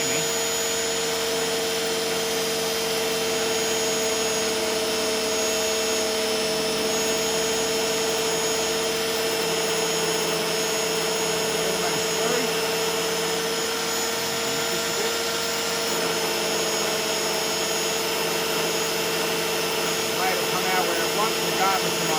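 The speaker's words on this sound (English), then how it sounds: "And you can hear if the motor labours at all, whether you're pushing too hard and fast or not." A saw blade motor cuts through a large Andamooka opal, a steady loud mechanical whine and hum holding unbroken for the full stretch with slight variations in load, running alone without talk.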